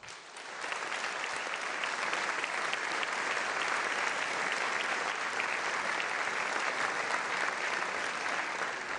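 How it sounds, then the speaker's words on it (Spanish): Audience applause for opposition deputies in a National Assembly chamber, sustained dense clapping from a large crowd that swells in after a moment and continues steadily throughout, with no talk over it. "Pido un aplauso para ellos."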